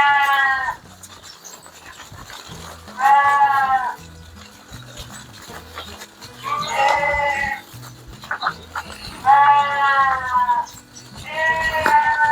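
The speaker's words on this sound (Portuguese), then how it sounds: "Tem em torno de 100 ovelhas, 100 matrizes." Around a hundred ewes raised on pasture at a Brazilian sheep farm bleat loudly in repeated drawn-out calls, several overlapping voices spaced every few seconds over low background movement and farm noise.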